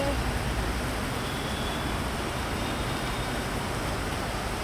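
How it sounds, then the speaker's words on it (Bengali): Heavy rain pours outdoors near a garden of potted herbs and roses, a dense, unbroken hiss that stays steady and loud throughout. "অনেক বৃষ্টি হচ্ছে।"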